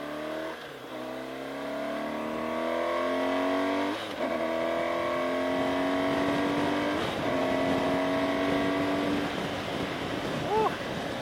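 A 2016 BMW R1200GS motorcycle accelerating hard through several gears, its engine climbing steadily in pitch before each shift and dropping back, loud and continuous over wind noise.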